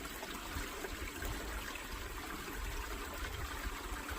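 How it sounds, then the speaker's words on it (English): Water poured over river sand in a sluice-style river sands run, a steady close rushing wash filling the whole stretch at an even level with no talk. "A little bit of water, get in."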